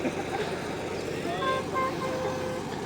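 A short vehicle horn toots briefly over steady traffic noise and a murmur of voices.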